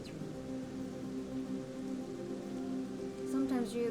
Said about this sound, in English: In this rain? I guess it's always rain.